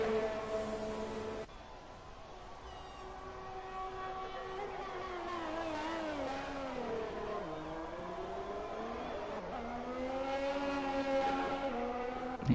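An F1 car on a flying lap at Bahrain in a racing video game, its engine a high, whining tone that climbs and drops through gear changes and braking, steady and fairly faint throughout.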